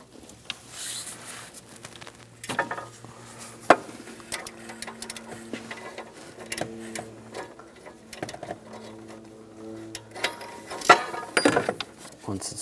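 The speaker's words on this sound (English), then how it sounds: "Now I'm going to use a 22 millimeter or 7/8 O2 sensor socket. You want to loosen up the O2 sensor." Ratchet with a 22 mm socket loosening an O2 sensor on a 1998-2010 Volkswagen Beetle, short bursts of clicking and metallic taps amid quiet workshop handling sounds.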